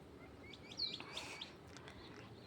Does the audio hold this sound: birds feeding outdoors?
yes